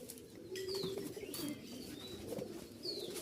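A Giribaz pigeon coos softly in a loft or coop, low murmuring calls repeating over faint chirps and light flapping, quiet and fairly close.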